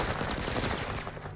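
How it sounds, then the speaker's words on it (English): A quick, loud burst of SMG fire in the video game Total Chaos, rapid shots blurring into a dense rattle for about a second before cutting off. "Let's go ahead and eliminate this last one with a burst from the SMGs"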